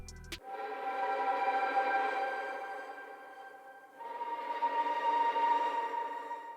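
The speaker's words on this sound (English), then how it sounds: "So it sounds very like rusty almost, or like vintage. It's a unique sounding violin." A string melody of layered harmonic violins, filtered thin with noise, delay and reverb, plays as sustained high notes that fade and return in a second phrase, faint and airy with no talk.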